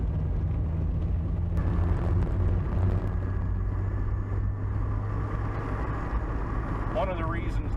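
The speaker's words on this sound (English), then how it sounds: "I can hear what the engine in the car is doing" A Mazda Miata autocross race car engine with a loud exhaust rumbles steadily beneath a voice, the exhaust droning at a constant level with no sharp revs.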